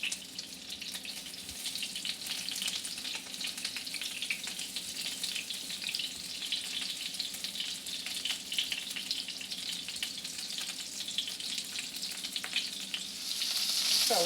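Meatballs frying in a pan, a steady close sizzle that runs the whole time and rises in loudness near the end, with faint scraping as they are turned and no talking.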